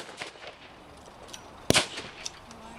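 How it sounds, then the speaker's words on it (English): A single sharp gunshot from WW2 reenactment automatic weapons cracks out at a battle display in Spetchley Gardens, Worcester, standing out clearly from a quiet outdoor background with faint, scattered smaller pops around it. "you can hear the last of the firing"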